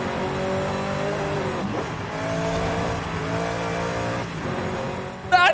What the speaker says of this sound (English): It sounds like a proper race car in here.